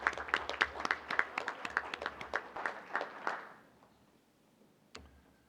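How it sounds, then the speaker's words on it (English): A short burst of applause at a school board meeting, a modest group clapping in quick rhythm for about three seconds before fading, followed by quiet and a single sharp knock. "Let's give another round of applause."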